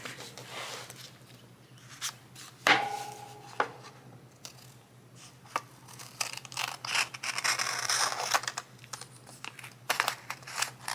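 Westcott no-stick scissors cut through paper for a junk journal craft, giving a close series of crisp snips mixed with paper rustling and handling noise.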